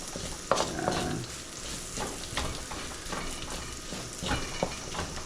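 Garlic sizzles steadily in a hot pan with scattered scraping stirs and light clinks, a close, continuous crackle with no talking.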